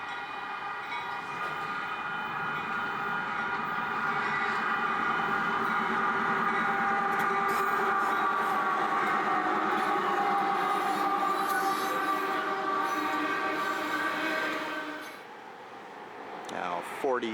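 Union Pacific trains passing on tracks in Lombard, Illinois, heard as a loud, steady rolling and squealing rumble for most of the stretch before fading near the end, with a person talking in the background.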